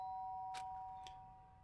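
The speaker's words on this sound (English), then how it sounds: "the sound of the doorbell forced its way into my room." A doorbell rings in the video game Danganronpa, two clear chime strikes over a steady tonal hum, moderately faint and heard alone.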